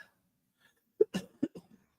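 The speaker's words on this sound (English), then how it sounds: "sorry about the cough" Several short, sharp coughs in a quick cluster after a quiet stretch, close and fairly loud, with no talking.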